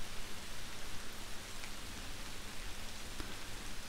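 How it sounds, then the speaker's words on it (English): Soft rain falls steadily on a farm, a dense, even hiss of drops with a few slightly louder patters and no voices. "And the soft rain will fall."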